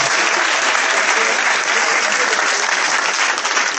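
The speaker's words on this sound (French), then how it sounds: "Est-ce qu'on peut l'acclamer?" Church congregation applauding a healed woman during a service, loud dense clapping with some cheering that stays steady and close for the whole stretch.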